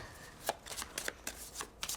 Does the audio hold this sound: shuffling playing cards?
yes